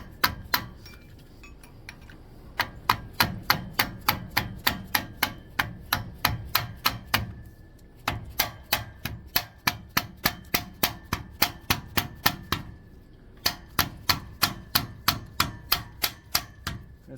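A chisel struck by a hammer while fitting brakes on a Winnebago RV: long runs of sharp metallic blows in a fast steady rhythm, pausing briefly between bursts.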